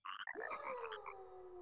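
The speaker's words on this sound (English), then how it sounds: "Is that just a dead frog?" A dying, dehydrated and shriveled frog in the video game Chibi-Robo! gives a drawn-out, warbling croak that sinks into a long fading tone, faint and alone.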